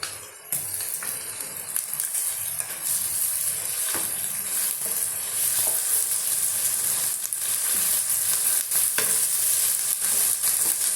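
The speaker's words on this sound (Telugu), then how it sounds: "ఉల్లిపాయ ముక్కలు ఆల్మోస్ట్ వేగిపోతున్నాయండి." Sliced onions frying with ginger garlic paste and turmeric in a pan, a steady hissing sizzle that fills the whole stretch, with faint stirring clicks and scrapes now and then and no talk.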